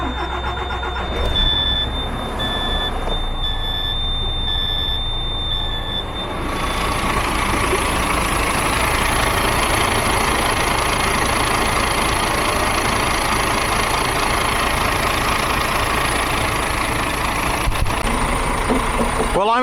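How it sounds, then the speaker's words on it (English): A DAF truck's large diesel engine turns over and settles into a loud, steady idle, with a beeping tone near the start and a voice speaking over it. "Right, let's go run the truck."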